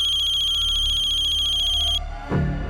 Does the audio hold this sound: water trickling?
no